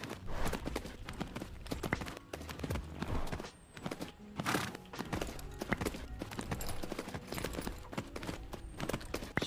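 Horse hooves in working canter in The Tales of Rein Ravine game, a steady rhythmic clip-clop of hoofbeats, crisp and close, continuing throughout with no voices.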